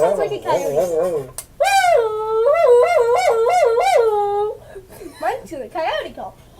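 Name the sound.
tin can sound device imitating a coyote call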